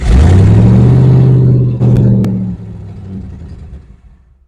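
A Ford 289 V8 with a freshly adjusted carburetor mixture rumbles loudly up close, then sags and winds down as though it is about to stall.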